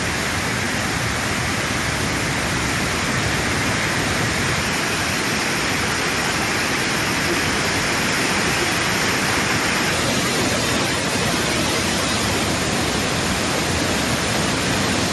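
The Kothaiyar river in flood after heavy rain and a dam's surplus water release roars as a dense, unbroken wash of rushing water, loud and constant throughout with no pauses.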